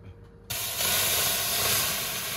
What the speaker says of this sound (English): I'm gonna be placing a little bit of boiling water.